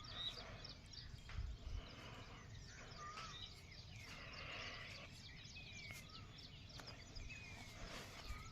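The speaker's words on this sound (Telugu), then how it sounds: "పక్షుల సౌండ్లు వింటుంటే చాలా." Birds chirping outside a temple, faint scattered calls and whistles over a low outdoor background, fairly distant.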